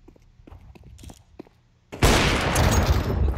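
Rapid automatic gunfire in the video game Counter-Strike 2 on the Mirage map erupts loud and sustained after a quieter stretch of faint footsteps and game sounds.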